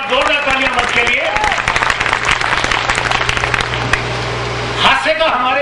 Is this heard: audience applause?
yes